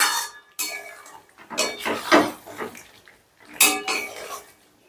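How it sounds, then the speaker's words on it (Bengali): Potatoes and pointed gourd are stirred with spices in a metal pan, producing intermittent scraping and clattering bursts of a spoon against the pan, with short pauses between strokes. "এবারে আলু পটলটাকেও মশলার সাথে ধরো 3 থেকে 4 মিনিটের মতন বেশ ভালো করে কষে নেব।"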